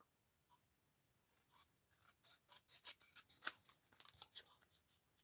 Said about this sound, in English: Do you know what? I'm just going to use scissors.